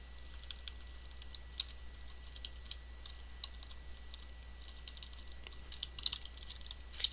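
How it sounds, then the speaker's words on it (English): Password being typed on a computer keyboard during a server setup: a quiet, steady run of light, irregular key clicks with a low constant hum underneath. "we'll go ahead and type in our password"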